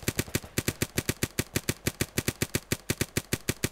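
Paintball gun in Renegade Paintball fires a long, fast, evenly spaced string of sharp popping shots, close and loud with no talking over them.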